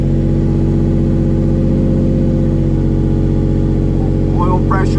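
A 1999 Lamborghini Diablo Roadster engine idles steadily and settles lower, a continuous loud low rumble throughout, with a brief voice near the end.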